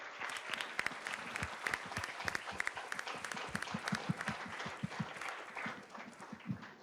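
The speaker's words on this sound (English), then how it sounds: "Can we have a round of applause for him?" A crowd applauds steadily for several seconds, the claps dense and even, moderately loud and slightly distant, with no voices standing out.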